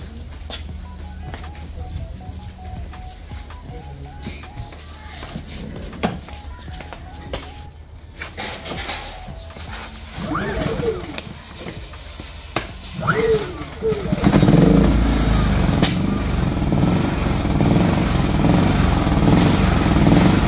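A PhilKing lithium-ion generator is started by hand, first idling with clanks and pull-cord rattles, then catching into a loud steady engine drone in the last few seconds, with someone talking over it.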